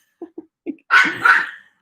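A dog barks in short yips, three brief quiet barks followed by two longer, louder bursts, close by with no talk.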